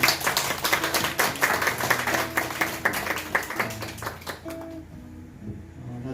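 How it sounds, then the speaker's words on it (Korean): A church congregation claps in welcome during a Sunday worship service, a dense burst of applause from many hands that gradually thins out and fades, with faint musical tones underneath toward the end. "박수로 환영하겠습니다"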